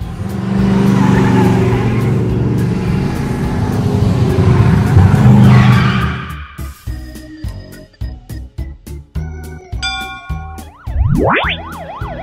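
A car engine roars and revs loudly for several seconds, then fades out as playful music with plucky notes takes over.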